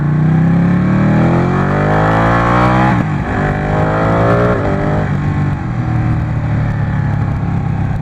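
A Ducati motorcycle is ridden, its engine droning loud and close throughout, the pitch rising through the revs, dropping at a gear change and climbing again.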